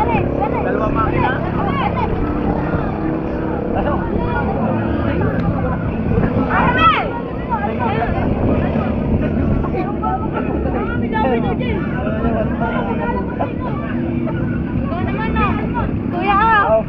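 Steady drone from a twin-engine motorboat runs throughout with wind buffeting the microphone and people talking over it.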